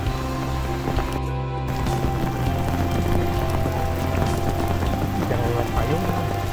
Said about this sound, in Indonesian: Lagi dingin-dingin gini, hujan mantap nih gengs.